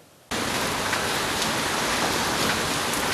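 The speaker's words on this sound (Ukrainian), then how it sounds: "почалася злива з грозою" A sudden heavy downpour in Poltava, with a dense, loud, unbroken hiss of rain that starts abruptly and holds steady throughout; no distinct thunder clap stands out.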